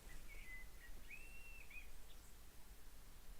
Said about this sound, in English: I can hear the birds singing outside.